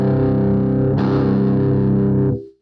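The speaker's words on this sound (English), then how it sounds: "we're gonna add a little bit of oomph with this generic overdrive" An electric guitar played through a generic overdrive pedal rings out in a gritty, sustained chord, struck again partway through, loud and alone before a quick fade and cutoff.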